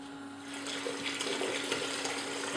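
A Geosub sampling pump at max power pushes water out at a high flow of about 15 litres a minute, a steady rushing, splashing stream that swells in after a brief start and holds loud and continuous.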